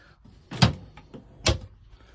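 Two cabinet doors with magnetic latches in a van are pulled open, each giving a sharp click-thump about a second apart, with softer knocks between them.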